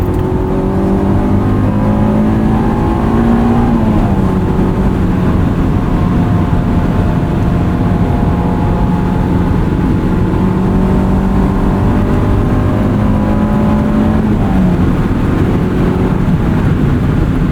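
A 2001 Honda S2000 on X-Ice snow tires driving steadily in winter, its engine droning continuously with a mild rise in pitch around the middle and road rumble throughout, close and loud with no talking.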